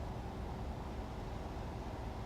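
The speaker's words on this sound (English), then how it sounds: "that AC fan that's making all that noise" A Tesla car parked nearby runs its air conditioning fan, a steady whooshing hum that holds unchanged at close range with no other sounds.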